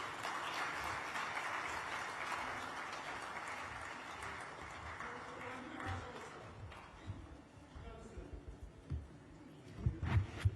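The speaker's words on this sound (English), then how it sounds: "Please, is there a way to increase the applause for the Chief Executive Officer of the Ghana Gold Board?" Audience at the 2025 Mining and Minerals Convention in Ghana applauds after a speech, a fairly quiet, distant wash of clapping that thins out, with a voice and some bumps near the end.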